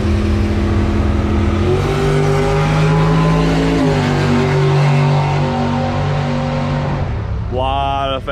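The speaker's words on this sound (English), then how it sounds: "I brought the slowest car to the drag strip" A slow car at a drag strip during a track rental, its engine droning loudly and steadily with pitch shifts as the revs climb and settle, ending in a sharp upward rev.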